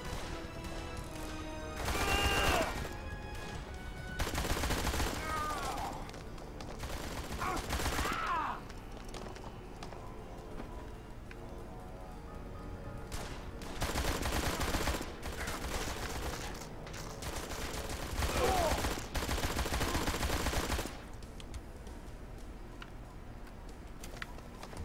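Gunfire rings out in combat in the Blues and Bullets video game: clustered bursts of rapid shots separated by quieter game ambience, loud and up front.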